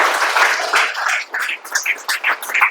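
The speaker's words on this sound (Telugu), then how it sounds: "ఓకే, సో ఒకసారి మళ్ళీ అందరు చప్పట్లు." Audience clapping at an awareness talk on children's brain development, a dense wash of applause that thins into scattered individual claps toward the end.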